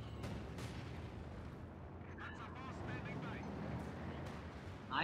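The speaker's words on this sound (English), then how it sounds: "I really don't know what this incendiary artillery barrage is doing here." Incendiary artillery barrage in Company of Heroes 2, heard as a low, continuous rumbling roar of distant fire and blasts with faint crackles and a sharper burst at the end.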